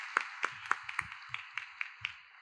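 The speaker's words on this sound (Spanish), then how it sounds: "Un fuerte aplauso ahí para todos los participantes, por favor." Sparse applause at a contest awards ceremony for the participants, with about a dozen distinct, fairly faint claps spaced unevenly, sounding like only a few people clapping.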